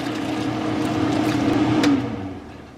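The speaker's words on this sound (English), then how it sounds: "I had the exhaust fan on" A kitchen exhaust fan runs with a steady broadband whoosh and low hum, fairly loud and close, holding constant before easing off at the end.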